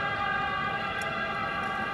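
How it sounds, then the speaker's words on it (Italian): An ambulance siren wails as it passes along a street, steady sustained tones at moderate loudness over a background rumble, with no speech. "Lasciamo passare l'ambulanza."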